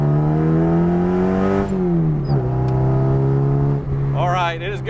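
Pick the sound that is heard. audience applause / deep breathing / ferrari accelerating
ferrari accelerating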